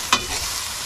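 Bamboo shoots being stirred in a cooking pan over heat, giving one sharp scrape of a utensil followed by a steady, faint sizzling hiss from the pan, with no voices.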